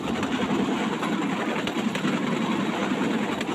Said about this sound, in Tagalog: At meron itong dalawang digulong na nagpapaandar gamit ang motor.